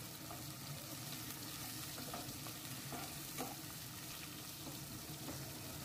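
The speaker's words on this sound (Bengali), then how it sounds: "সামান্য একটু নরম করে প্রথম আমি ভেজে নিচ্ছি।" Onion rings softening in hot oil with a pinch of asafoetida, a constant busy sizzle close by, broken by a few soft stirring scrapes, with no talking.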